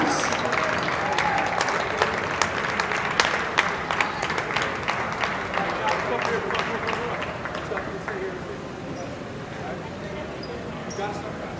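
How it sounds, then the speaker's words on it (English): A gym crowd at a Senior Night boys' basketball game applauds the Wayne Hills seniors, with steady clapping and cheering filling the hall throughout and a public-address voice faintly audible underneath as the ovation slowly eases. "let's have a round of applause for all of our Wayne Hill seniors"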